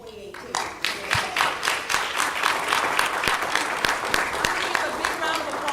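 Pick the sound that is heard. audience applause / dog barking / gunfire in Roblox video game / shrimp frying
audience applause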